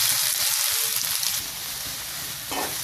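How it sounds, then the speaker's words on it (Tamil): Chopped onions hit hot oil after mustard seeds splutter, for a tomato chutney, giving a loud, dense, continuous sizzle close by that eases slightly as it settles. "இப்போ கடுகு பொரிஞ்ச உடனே ஃபஸ்ட்டு வெங்காயத்தை போட்டுக்கலாம்."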